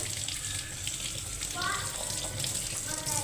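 Raw mutton pieces being washed under running water in a sink, with a steady close gush of tap water, splashing and sloshing as the meat is moved around.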